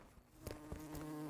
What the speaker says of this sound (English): Oh, I got a bee in there.